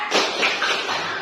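A short round of unison hand clapping from schoolchildren in a classroom counting game, a single close burst of claps blending with the room.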